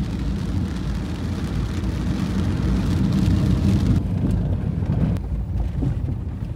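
Rain falling in a tea garden in Sreemangal, a steady broadband hiss of drops close by with some wind noise, continuous throughout and thinning slightly near the end, no voices.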